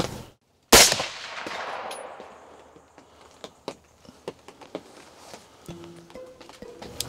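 A single loud, sharp rifle shot fired at a blacktail buck on an Oregon hunt rings out and decays over about a second, followed by quieter rustles and footsteps in an otherwise still outdoor setting.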